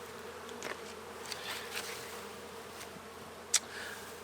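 Honey bees at an open air hive in January give a faint, steady buzzing drone throughout, with a few brief sharper clicks and one sudden tap near the end.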